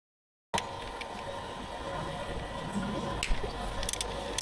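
Ignition coil bolts being undone on a Toyota Yaris during a home tune-up, a steady mechanical ratcheting whir with small metallic clicks, fairly close, after a short silence at the start.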